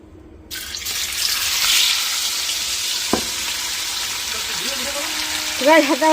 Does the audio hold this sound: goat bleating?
no